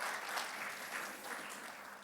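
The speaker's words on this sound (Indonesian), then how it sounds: "yang bersuka cita boleh tepuk tangan bagi Tuhan Yesus." A church congregation at a Sunday service claps together, a brief soft wash of applause that holds steady for a couple of seconds, somewhat distant and fairly quiet.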